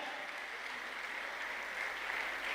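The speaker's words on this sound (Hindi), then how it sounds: "जोरदार ताली बजाओ यार सर के लिए" Steady applause from an audience at a welcome event, a dense continuous clatter of clapping that holds level throughout with no voices over it.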